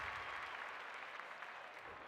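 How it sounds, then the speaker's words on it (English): A stadium crowd at an AFLW women's Australian football match involving the Bombers keeps up a steady, distant wash of applause and cheering. "The crowd noise tells you all you need to know."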